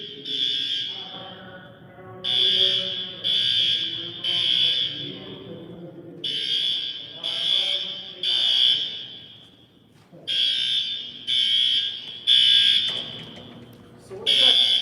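New bathroom alarm going off in a city council building, a loud, piercing buzzing tone sounding in repeated bursts of about a second with short gaps, while people talk underneath.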